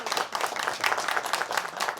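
A studio audience gives panelists a round of applause at a televised wealth-gap discussion, dense, even clapping from many hands, close and steady throughout without any talking.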